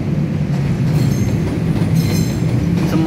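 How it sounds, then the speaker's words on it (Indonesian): A train rumbles steadily across a colonial-era railway bridge above the swollen Ciliwung river near Manggarai in Jakarta, a loud, continuous roll of wheels with faint clacking and no talk. "Kita saksikan ada kereta lewat di atas"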